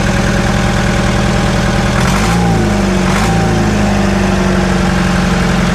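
An old forklift engine runs steadily at a loud, close idle, with a brief rev and a shift in pitch around the middle before it settles back into an even, throbbing drone.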